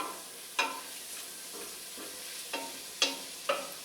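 Oregano and cumin toasting in a pan for tortilla soup, stirred in a loose rhythm: a quiet low sizzle with five or six distinct scraping strokes about half a second apart.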